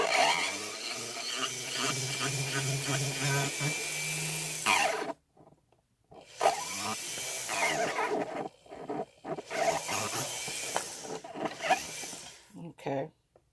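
Whining, high-pitched buzz of an electric nail drill shaping stiletto nails, running in long bursts, pausing between them, close by and fairly loud.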